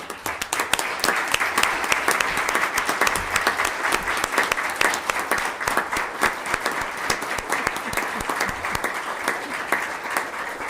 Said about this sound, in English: so that we can give you a round of applause